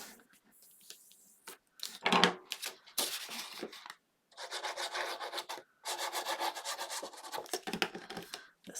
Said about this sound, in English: And fold and burnish.